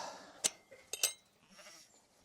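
Sheep bleating in a smallholding pen during an eight-week lamb check, a few short sharp calls close by, with quiet rustling between them.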